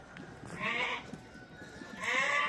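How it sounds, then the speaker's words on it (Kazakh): Sheep and lambs at a livestock sale, with two loud close bleats, one early and one near the end, over a murmuring background of the yard. "Так, жаңа 6 тишке өтіп жатқан қой."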